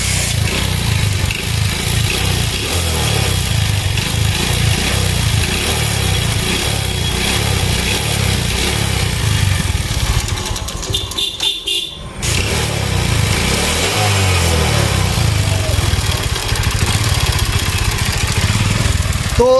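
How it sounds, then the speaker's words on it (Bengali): A Runner Royal Plus motorcycle engine, just after chain sprocket adjustment and ahead of piston ring and clutch plate work, runs loud and steady close by with a brief dip in the middle before resuming. "ইঞ্জিনটা স্টার্ট দিয়ে দেখাবো সাউন্ড কেমন"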